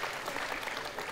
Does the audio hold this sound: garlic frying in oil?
no